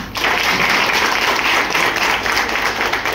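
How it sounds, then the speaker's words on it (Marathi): A loud, steady burst of audience applause at a Marathi gathering, dense clapping sustained evenly for about three seconds with no talking over it. "बारामतीतून आधी टाळ्या जोरदार झाल्या पाहिजेत ना"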